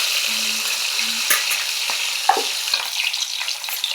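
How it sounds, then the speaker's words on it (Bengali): Rohu fish pieces, including heads, frying slowly in oil, a steady sizzle broken by occasional sharp pops and a few spatula knocks, with a short low hum early on and no talk. "তো দেখুন মাছগুলো আমি ভাজছি"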